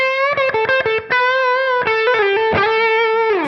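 Electric guitar played through a $27 Dumble-style overdrive pedal, bright sustained notes and quick picked phrases with a warm distorted edge, loud and close with no talking.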